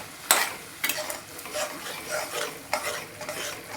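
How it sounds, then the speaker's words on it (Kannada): Bisi Bele Bath mixture being stirred in a pan, a soft sizzle under a series of uneven scraping strokes with a few sharp knocks of the spoon, close and fairly quiet, no voices. "ಚೆನ್ನಾಗಿ ಮಿಕ್ಸ್ ಮಾಡೋಣ"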